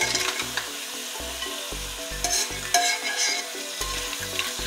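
Cooked crab tossed into a frying masala of browned spice powders in a pressure cooker pot, sizzling steadily up close with repeated scraping stirs and clatter over background music, no voices.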